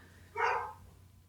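A single short dog bark sounds at moderate distance, fairly faint, with a low hum in the background and quiet before and after.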